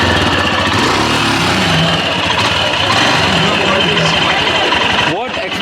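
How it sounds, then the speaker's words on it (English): A 411cc motorcycle, a sibling model of the Himalayan, idles steadily at a motorcycle day rider meetup in Bangalore, its low engine rumble continuous under nearby chatter and crowd noise. "Just on, I want to hear the exhaust note."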